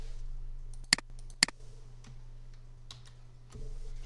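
Alt T pressed on a computer keyboard in Mastercam 2024, two quick, sharp key clicks close together over a quiet background hum, followed by a soft thump.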